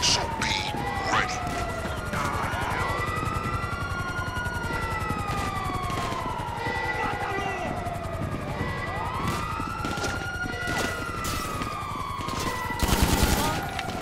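Wailing police sirens cycle repeatedly under rapid bursts of automatic gunfire as cops and cartel attack in GTA Online, a dense, loud, continuous mix that swells near the end.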